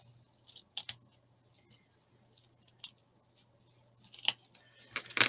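Scissors trimming paper pieces for a Graphic 45 tag book, heard as quiet, close, irregular snips and crisp cuts spaced over a soft background hum.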